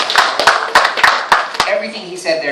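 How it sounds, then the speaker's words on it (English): Brief bursts of audience clapping from a seminar crowd, several sharp claps under loud ongoing talk, fading out as a voice continues. "a round of applause, please"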